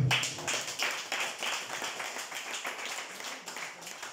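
A church congregation at a Sunday service claps together in a steady, brisk rhythm, the sound fairly dense and sustained, with a roomy, echoing quality.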